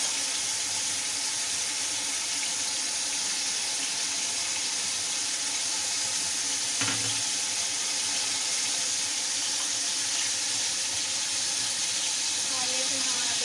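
Water goes into a cooking pot while biryani is being made in a home kitchen. The sound is a steady, even hiss and wash with one brief louder splash partway through, and there is no talking.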